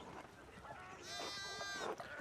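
Sheep bleating in the Pentiment video game, a few drawn-out harmonic bleats rising over a soft farmyard ambience in the second half, fairly close and clear.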